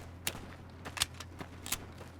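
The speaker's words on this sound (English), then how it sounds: "More gunshots" Scattered gunshots in a Vietnam War mod of the video game Fallout: New Vegas, several sharp cracks spread unevenly over a couple of seconds, fairly distant, with no talk.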